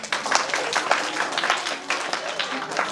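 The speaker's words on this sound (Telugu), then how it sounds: "అందరు క్లాప్స్" Children clap together at a school Christmas celebration, a burst of quick, uneven applause from a group nearby with a voice heard over it.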